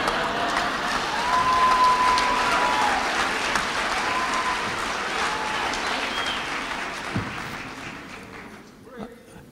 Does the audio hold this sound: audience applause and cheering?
yes